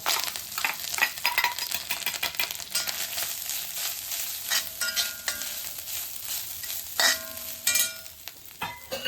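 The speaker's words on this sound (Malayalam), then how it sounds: "ഒന്ന് പൊട്ടിക്കഴിഞ്ഞാൽ തേങ്ങ, വെളുത്തുള്ളി, ഉള്ളി, കരിവേപ്പില." Grated coconut, garlic, shallots and curry leaves fry in a pan for Kerala sambar, giving a steady crackling sizzle close by with scraping stirs and sharper pops.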